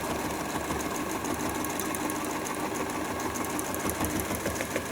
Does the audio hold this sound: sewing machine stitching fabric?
yes